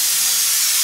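A pressure cooker with peas inside lets off a loud, continuous hissing steam whistle in a home kitchen, close and unbroken for the whole moment.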